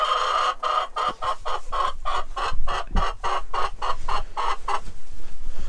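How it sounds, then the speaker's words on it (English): Chickens cluck steadily inside a coop, a close, rhythmic run of short calls with occasional louder squawks and faint rustling beneath. "Bad thing is these chickens are gonna be in here most of the day."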